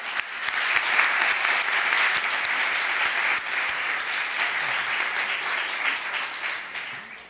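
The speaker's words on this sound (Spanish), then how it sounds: "que quiero pedirles un aplauso, por favor" A panel audience breaks into sustained applause, loud and dense clapping that holds evenly throughout before easing slightly toward the close.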